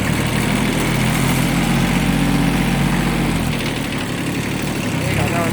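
A Kubota B6200 compact tractor's engine runs steadily and loud and close, holding a constant low drone as it pulls away.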